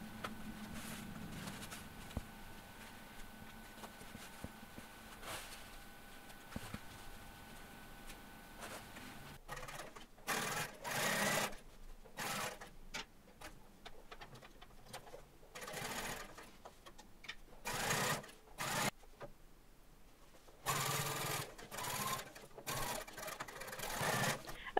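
A sewing machine stitches the back seams of a pair of jeans, running in steady whirring bursts that start and stop repeatedly, with pauses between runs and faint handling noise.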